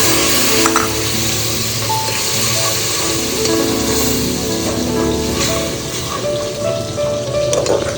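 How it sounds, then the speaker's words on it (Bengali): Onion, garam masala, ginger, garlic, turmeric, chili, coriander, cumin and salt fry in a pan while being stirred, giving a loud steady sizzle with scraping stirs and no talk. "একটু নাড়িয়ে নেব"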